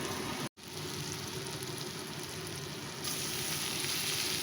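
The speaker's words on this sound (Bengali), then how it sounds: "এখানে তোমার তেলের মধ্যে কষা হচ্ছে হলুদ লঙ্কা মশলাটা দিয়ে।" A turmeric and chili spice paste fries in oil for a fish curry, giving a dense, even crackling hiss close by that drops out for an instant and then continues unbroken.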